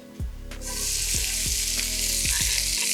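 Garlic and baby potatoes sizzling loudly in a hot pan, a strong steady frying hiss that swells in after a clatter and holds throughout, with a few low knocks beneath.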